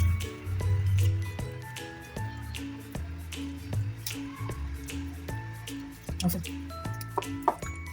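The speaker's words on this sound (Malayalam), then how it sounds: "അപ്പോൾ നമുക്ക് ഇതൊന്നിനെ ഒന്ന് മിക്സ് ചെയ്താലേ" Overnight oats with mixed seeds being stirred in a bowl, giving soft wet squishes and drips with light spoon clinks against the container, fairly close, under talking.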